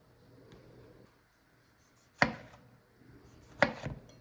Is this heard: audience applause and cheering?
no